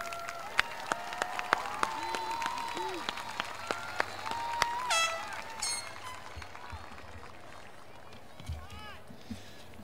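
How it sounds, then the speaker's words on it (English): Scattered clapping from a high school graduation crowd of the class of 2022, moderate and uneven, with voices and cheers over it and occasional sharp claps standing out. "I don't think you'll mind giving a round of applause to Edgar, Eugene, and Gabriella."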